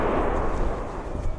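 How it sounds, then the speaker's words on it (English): Gunfire from a shootout involving special forces with rifles crackles and booms in a dense, loud burst of noise with no clear gaps between shots, sounding close and harsh. "We just heard loud gunshots."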